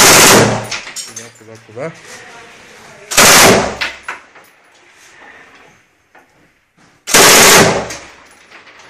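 Machine gun fired by a commander at a military position near Donetsk: loud, close bursts of rapid fire, with quieter clatter and sounds of movement between them, and a man's brief word in Russian.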